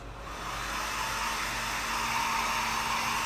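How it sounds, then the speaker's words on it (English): A hair dryer blows steadily with a constant broadband whoosh and low motor hum, close and unbroken throughout. "Enjoy the subtle ASMR sounds of the hairdryer"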